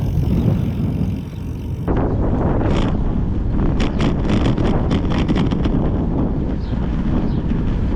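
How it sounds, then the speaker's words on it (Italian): Steady wind buffeting a nearby microphone during a gravel bike ride, with a rumbling low roar and occasional gusty bursts throughout, no voices. "un po' di vento"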